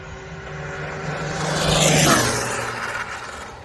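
An Arrma Limitless 6S RC speed-run car with a C8 Corvette body and Castle-style high-kV motor screams past, its whine swelling and then fading with a Doppler-like pitch drop.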